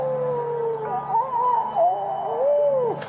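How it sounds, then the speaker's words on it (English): Whale calls with slow, gliding moans rise and fall over a continuous ambient relaxation track, steady and fairly loud, with no voices. "It's time for whale noise."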